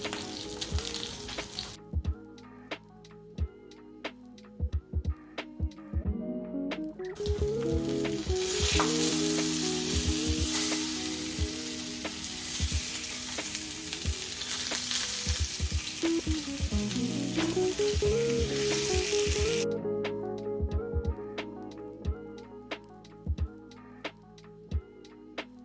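Salmon frying in a pan for onigiri gives a steady close sizzle that swells loud for several seconds in the middle and fades back. Intermittent stirring or scraping clicks come through, and nobody speaks.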